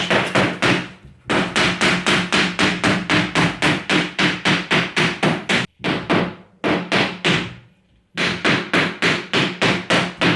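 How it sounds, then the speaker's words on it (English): Rapid, steady hammer taps on a wooden rail of a hollow core door, a long run of sharp evenly spaced strikes broken by a few brief pauses, close and loud. "take the hammer and tap this one here down until it's nice and flush"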